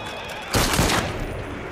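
A gunfire volley in the video game Assassin's Creed Syndicate, heard as a single loud, dense burst of overlapping shots that lasts about half a second over a noisy game background.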